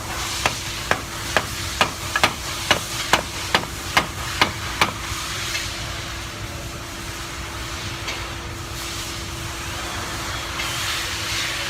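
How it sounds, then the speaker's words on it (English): Around ten evenly spaced, sharp hammer taps on a flat piece of wood drive an axle seal into the front hub of a 2007-2021 Toyota Tundra 4x4, all within the first five seconds, followed by a low steady hum. "tap it in with a hammer."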